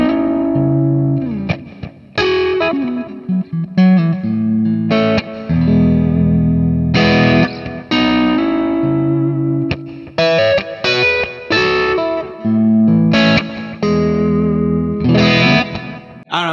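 A distorted electric guitar plays through a Kemper cabinet with its presence rolled off, giving a warm, dark tone; chords and riffs ring out in bursts separated by brief gaps, close and loud with no talking.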